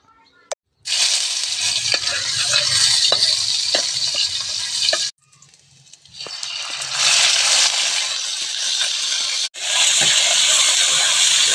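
Pork and beans with marinated chicken and potato cubes get stirred in a hot pan, a loud, steady sizzling hiss with scraping strokes that drops away briefly midway and then surges back.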